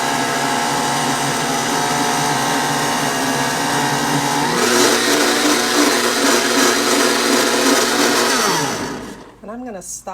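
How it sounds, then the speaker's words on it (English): A blender whirs loudly and steadily, mixing a keto vegan ice cream base. The motor pitch shifts partway through, then it winds down and stops near the end as a voice speaks briefly. "we just need to blend this"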